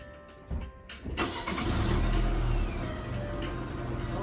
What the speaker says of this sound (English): Terrible alternator noise when you start it. Start it, Nolan.